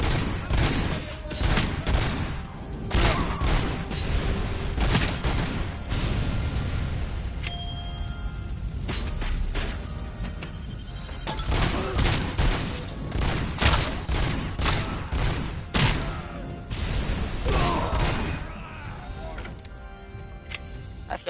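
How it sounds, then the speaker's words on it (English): Gunfire and grenade blasts from enemies in the RoboCop: Rogue City video game on PS5, with dense, rapid volleys of shots, sharp metallic pings and clangs, and bursts of explosions filling the whole stretch at close, loud range. "They're throwing grenades!"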